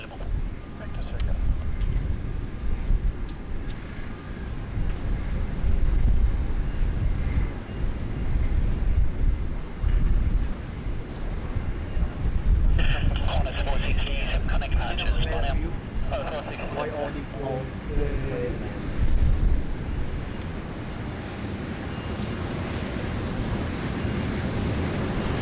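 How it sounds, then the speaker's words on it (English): A corporate jet arrives at Sydney Airport on its final approach, just about to touch down, giving a steady, loud engine roar with a brief whining rise in the middle, heard beneath someone talking. "we've got another corporate jet arrival. Just about to touch down here."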